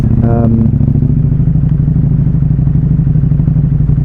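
A KTM Super Duke R motorcycle is being parked, its engine giving a loud, close, steady low idle rumble throughout, with brief clattering near the start.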